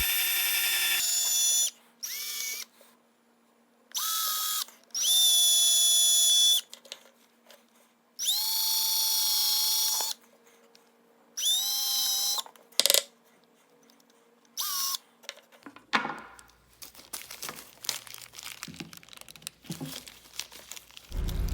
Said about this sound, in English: take a 16-inch drill bit and drill a hole down the middle of these